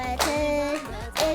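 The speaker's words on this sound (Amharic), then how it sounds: "ሞቅ ያለ ጭብጨባ!" Warm applause from a studio audience at a children's TV birthday show, short bursts of clapping mixed with voices and tonal sound, lasting just over a second.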